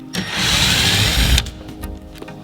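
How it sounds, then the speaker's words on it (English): Power drill with a 5/16 bit backing screws out of the bottom of a wooden shipping crate, one loud whirring burst lasting about a second, then quieter clicks and handling noises. "we'll need a 5/16 bit in order to remove the screws at the bottom of the crate"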